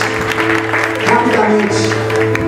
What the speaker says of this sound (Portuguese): A igreja pode aplaudir ao Senhor Jesus por isso?